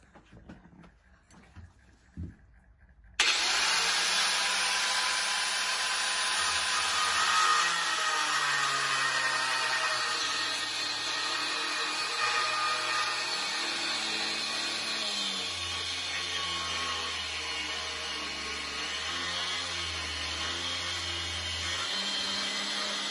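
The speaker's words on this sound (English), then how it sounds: "I'm going to cut it out with an angle grinder." An angle grinder starts after a few quiet clicks and then whines loudly and steadily up close as it cuts out a Micarta knife handle, with the motor pitch sagging under load as the disc bites.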